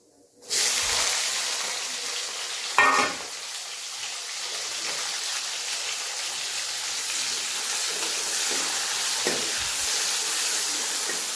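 Cumin seeds hitting hot oil for Indian-style macaroni, erupting into a sudden loud hiss that settles into steady sizzling, with a brief stirring clatter around three seconds and another near nine.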